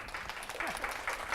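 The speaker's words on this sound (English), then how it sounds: "let's give a round of applause to Rita" A seminar audience at a superfoods talk gives a short burst of applause for Rita, a volunteer called up on stage, with scattered clapping under a faint murmur of voices.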